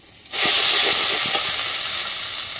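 Prawns and ground prawn paste hitting a hot pan with ginger paste and salt, setting off a loud, steady, close sizzle that starts abruptly and holds, with faint stirring underneath.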